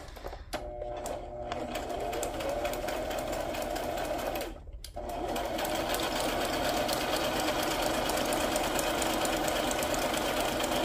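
A sewing machine stitches continuously with a fast, steady mechanical whir and rattle, close and fairly loud, broken by one brief pause before it carries on.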